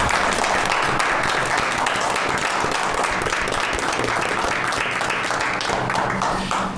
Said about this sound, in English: we should stand and give him a round of applause